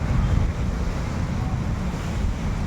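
Steady pre-monsoon wind rushes and buffets across the microphone, a continuous low roar with no voices.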